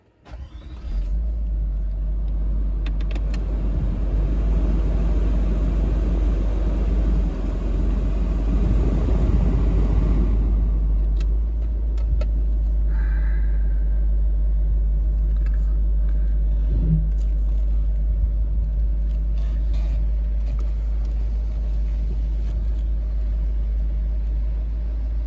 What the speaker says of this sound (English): So let's have a quick little drive around the field.